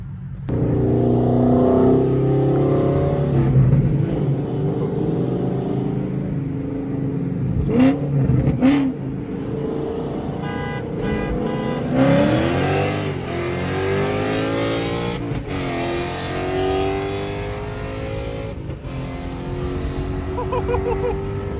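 A 2014 Mustang GT fitted with a DSS aluminum one-piece driveshaft accelerating, its V8 rising in pitch through several revving pulls, loud and close, with brief voices in between.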